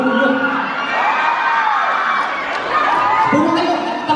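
A large crowd shouts and cheers a welcome at a fan gathering in Liverpool, a dense, sustained roar of whoops and children's cries that stays loud throughout.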